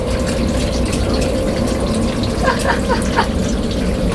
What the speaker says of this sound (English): Oh, that shower was so cold.